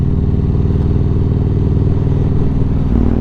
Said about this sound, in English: I do love the noise of this bike.